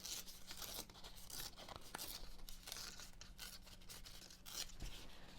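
Paper torn by hand for scrapbooking, repeated faint close ripping and rustling strokes in an uneven rhythm, without talk.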